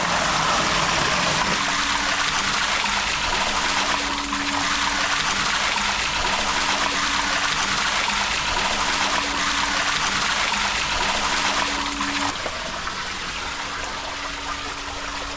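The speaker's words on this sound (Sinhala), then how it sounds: "ඔයාලට පේනවා මේ වතුර ගලන විදිය." Water flows steadily through an underground gem mine about 35 feet deep, a continuous close hiss and trickle with a low motor hum running beneath it for most of the stretch.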